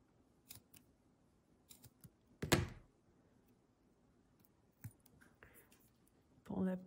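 Scissors snip masking tape at an angle, with a sharp cut near the middle and a few quieter snips and rustles around it, close and fairly faint in a quiet room.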